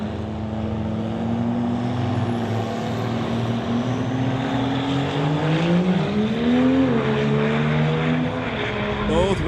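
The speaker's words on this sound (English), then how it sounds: "Dodge Ram versus Chevy Silverado racing to the 8th mile on the fastest index class" A Dodge Ram and a Chevy Silverado drag race down an eighth-mile strip at an NHRA Summit ET Series event, engines droning loudly and steadily, with pitch rising and wavering as the trucks accelerate, no talk.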